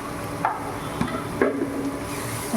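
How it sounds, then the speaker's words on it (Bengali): Spices such as turmeric powder and salt stirred in a frying pan with a small spoon, giving a few short scraping strokes over a low, steady sizzle, close and fairly quiet. "তারপর এটা দিয়ে একটু নাড়বো।"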